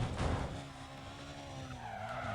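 In Need for Speed Undercover, a car's tyres skid and squeal under the handbrake over a steady engine drone, one continuous slide heard loud and close.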